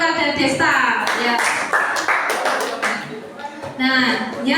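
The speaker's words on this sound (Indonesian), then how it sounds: "kita beri tepuk tangan kepada Desta" Classroom of students clapping for a classmate, a short burst of hand claps mixed with overlapping chatter and voices close by.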